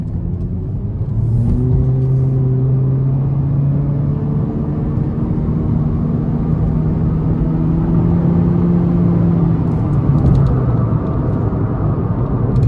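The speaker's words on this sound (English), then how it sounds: "I'm just gonna give it a pull here and see what it sounds like." A 2020 Honda Civic Sport engine in sport mode revs up loudly and climbs in pitch as the car accelerates hard, dips briefly at a gear change, then pulls again; heard from inside the car.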